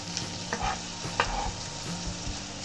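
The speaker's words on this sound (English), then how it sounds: "I saute our garlic. Now we mix it with the ham." Sautéed garlic stirred together with ham in a pan, a few scraping spatula strokes and a sharp metal tap over a continuous low sizzle, close and moderate in level.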